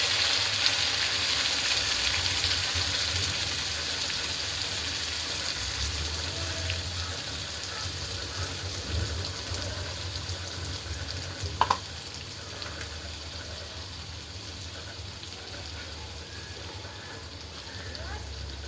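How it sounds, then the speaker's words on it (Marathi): Ground masala and curry leaves frying in hot oil, a steady, moderate sizzle that slowly fades, with one sharp clink partway through. "आता आपण कढीपत्ता टाकून घेऊया आणि हा मसाला वाटलेला तेलामध्ये सोडून घेऊ"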